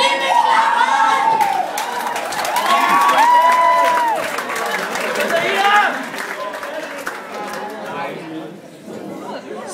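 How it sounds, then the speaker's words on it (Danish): Crowd at a school intro festival cheering and clapping loudly for a performer, with shouts and chatter layered over the applause throughout, fading slightly toward the end. "Giv mig klappen!"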